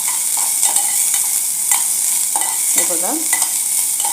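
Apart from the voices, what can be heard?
onions and spices frying in a pan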